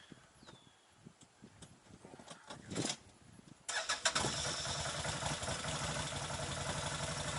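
An off-road vehicle's engine cranks briefly and then catches, settling into a loud, steady idle close by after some quiet rustling at the start.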